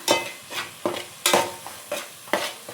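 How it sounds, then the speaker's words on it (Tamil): A spatula stirs sautéed masala with coriander, chili and cumin powders in a frying pan for Kerala-style fish curry, with six rhythmic scraping strokes over a soft sizzle, close and steady. "போட்டு இதையும் நல்லா கிளறி விட்டுருக்கலாம்"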